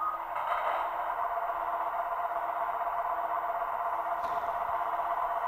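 Model diesel locomotive sound module idling at a model railway, a steady droning engine hum with a light mechanical rattle, continuous and fairly close without speech.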